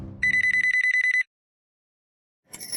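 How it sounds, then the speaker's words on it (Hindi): A landline telephone rings with a loud, rapid electronic trill lasting about a second, then silence before a fresh burst begins; a voice is briefly heard just before the ring. "तुमने मेरे फोन पे फोन किया, मैंने नहीं उठाया तो तुम लैंडलाइन पे फोन कर रहे हो?"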